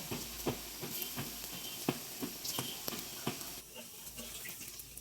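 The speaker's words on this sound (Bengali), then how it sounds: "এখন এক পাশ হয়ে গেলে উল্টিয়ে অপর পাশ ভেজে নিচ্ছি।" Lentil and onion fritters made with gram flour fry in oil in a wok, giving a steady hissing sizzle broken by regular light crackles and spatters, close and moderately loud, with no voices.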